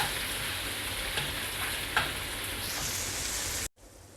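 Alamang shrimp paste fries in a pan with a steady, close hissing sizzle, a couple of brief knocks partway through, and then a sudden cut to near silence.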